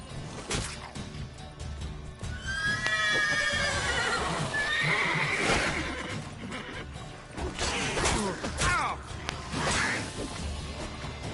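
Roach, a horse in The Witcher 3, neighs and whinnies several times over galloping hoofbeats, with occasional whooshes and crashes layered in, moderately loud and sustained throughout.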